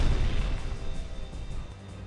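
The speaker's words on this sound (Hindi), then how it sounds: "सामने रखी 7 मीटर चौड़ी कंक्रीट दीवार पर ये धमाका" A bunker buster bomb explodes against a 7 m thick concrete wall, a sustained loud, rumbling blast with dense low-end roar that slowly fades over two seconds, with no voices.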